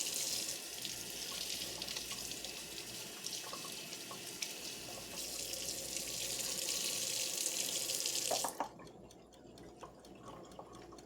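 A kitchen tap runs steadily to heat up the water, a constant hiss of flowing water that cuts off sharply near the end, leaving faint drips and quiet room sound.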